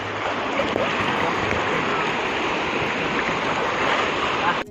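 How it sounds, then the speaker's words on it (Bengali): Sea waves break and wash onto a beach in Italy, a steady, full rushing surf that continues without pause and holds at an even loudness, with no voices over it. "ঢেউগুলো আসছে বেশ ভালো লাগছে"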